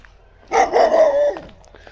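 A dog at a campsite in Ottawa Lake Campground, Kettle Moraine State Forest, Wisconsin, gives one loud, drawn-out whining bark that lasts under a second, against a quiet outdoor background.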